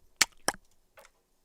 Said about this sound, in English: I feel the need to add a clicking sound when I make it.